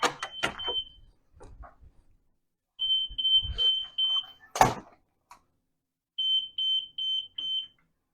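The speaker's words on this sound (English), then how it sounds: "you have to turn off the alarm on the bed and the chair" A patient bed or chair alarm sounds in a hospital room as rows of high, evenly spaced electronic beeps in two separate bursts, mixed with scattered clicks, rustling and one sharp knock nearby.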